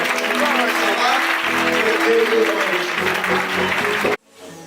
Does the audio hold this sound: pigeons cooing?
no